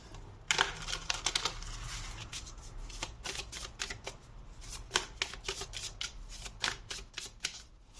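A tarot deck shuffled by hand, a quick series of close, crisp riffling flutters and snaps in an irregular rhythm, fairly quiet and with no voices.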